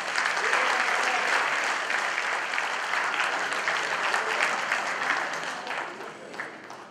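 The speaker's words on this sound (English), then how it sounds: "Please give him a round of applause." An audience at a school reunion gathering applauds, a dense, steady wash of many hands clapping together that holds for several seconds and then gradually thins and fades toward the end.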